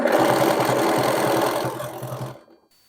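Sewing machine running fast through heavy multiple seams of a sherpa-lined coat, a steady mechanical whirring and rapid knocking for about two seconds before stopping.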